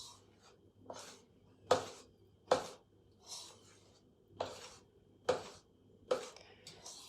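Chocolate cake batter is mixed in a bowl with a spoon, giving about seven soft, rhythmic scraping and squelching strokes, close up and fairly quiet, with no talk.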